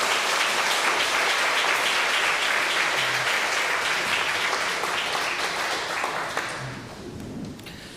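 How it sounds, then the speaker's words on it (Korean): A church congregation applauds to welcome visitors, loud dense clapping that holds steady for several seconds and then tapers off toward the end. "일어나서 인사하실 때 크게 박수로 환영하겠습니다"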